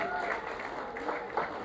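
A church congregation at an Indonesian worship service claps steadily and densely throughout, a sustained wash of hands with a voice faintly mixed in.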